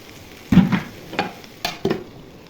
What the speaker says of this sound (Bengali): ধনিয়া পাতা দিয়ে ভাজিটা 5 মিনিটের মধ্যে ভেজে ভাজিটা নামাই নিব